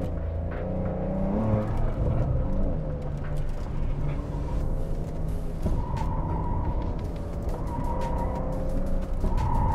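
A Porsche 911 Cabriolet with the roof up lapping a track, engine droning and rising and falling through gear changes, heard from inside the cabin as a steady loud rumble with shifting pitch.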